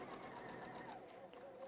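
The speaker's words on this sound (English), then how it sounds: "letting the machine do all the work. It's feeding through ever so nicely." A sewing machine stitches a small quilt, a steady fast mechanical whirr running continuously at low level while someone talks over it.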